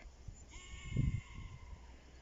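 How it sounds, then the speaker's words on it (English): Sheep bleat faintly from some distance in a field, a thin wavering cry heard once over low outdoor rumble and light handling noise. "We found some sheep."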